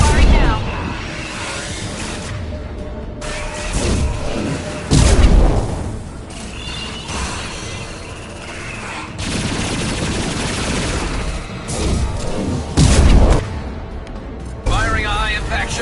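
Gunfire from weapons in the Mass Effect 2 game comes in bursts of heavy shots and booming impacts under an ongoing game soundtrack, with voices speaking in between.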